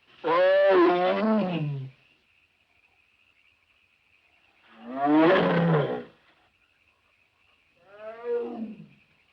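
A tiger, hunted as a man-eater, roars three times with long pauses between; the first two roars are loud and full, the third shorter and fainter, over a steady high insect-like hiss.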